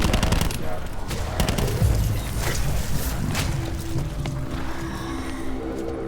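Gunfire from Call of Duty Black Ops 4 zombies mode on the Blood of the Dead map, scattered shots and bursts over a dense bed of game noise and music, moderately loud throughout.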